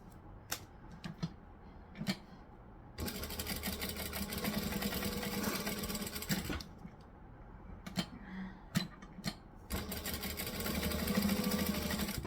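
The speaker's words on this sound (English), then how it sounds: "So I'm sewing that at 3/8 of an inch from the edge" A domestic sewing machine stitches a small bag strap in two sustained whirring runs, close and moderately loud, separated and followed by scattered clicks and handling knocks.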